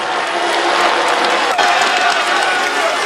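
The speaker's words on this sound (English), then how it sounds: "Pleasant applause, I think we can call that one, for Fredrik Kesyakov" Roadside spectators applaud and cheer a Swedish Astana rider on a Tour de France climb, a steady, dense outdoor crowd clatter at even loudness for about three seconds.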